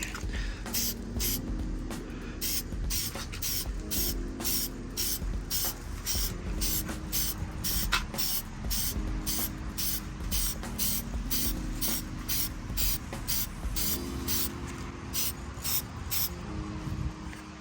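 HyperDip aerosol coating sprays onto the chrome trim of a Kia Forte GT in a long run of short, close hissing bursts with a steady rhythm.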